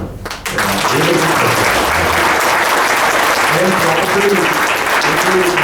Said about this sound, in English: I said you should give a great clap for the